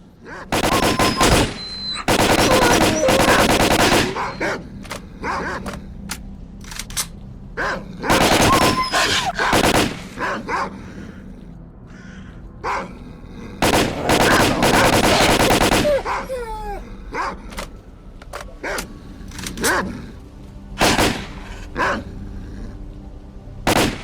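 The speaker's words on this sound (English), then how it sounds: "Certainly not great shooting on my part" Automatic gunfire from the video game Stalker, played on a PS5 Pro, rattles out in loud, close bursts of rapid shots. Brief pauses separate the bursts across a long exchange, with a few scattered single shots.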